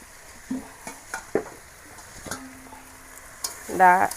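Water spinach greens frying in a pan with a quiet sizzle and scattered light scrapes and clinks of a stirring utensil, ending in a louder clatter.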